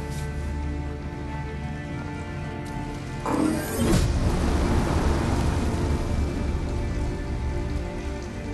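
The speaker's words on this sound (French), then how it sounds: "il pleut des cordes" Heavy rain pours in the video game Detroit: Become Human, a dense steady wash that swells louder partway through, over a low background hum.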